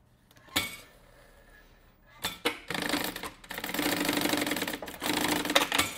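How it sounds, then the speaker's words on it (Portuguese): A sewing machine stitching a cosmetic travel case along its marked seam lines; a few short clicks and bursts at first, then a sustained rapid mechanical whirring run of stitches, broken by brief pauses. "E aqui eu só vou costurar marcação com a marcação."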